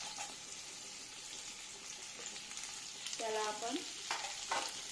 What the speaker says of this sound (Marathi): चांगला लाल होईपर्यंत परतूया